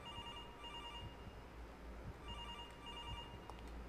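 Repeated electronic ringing of a telephone sounds through quiet, dim ambience in a horror video game, steady and soft throughout.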